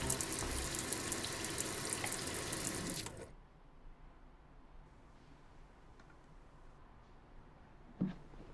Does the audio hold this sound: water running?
yes